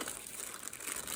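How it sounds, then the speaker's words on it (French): Tissue paper crinkles and rustles while an oracle card deck (Oracle du Soleil Levant) is unboxed, a close, continuous soft crackling with no talk. "Un petit papier de soie."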